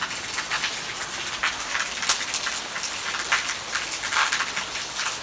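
Rain falls steadily, pattering and splashing close by in a dense, even hiss with scattered louder drops, and no voices.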